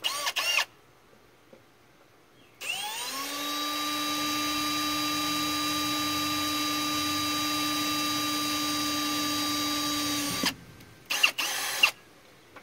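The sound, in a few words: power drill drilling small piece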